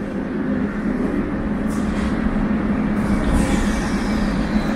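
A Moscow metro train running, with a steady, loud rumble of wheels and carriage noise and faint high squeals drifting in and out.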